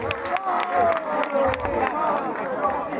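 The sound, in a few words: concert crowd applauding a new artist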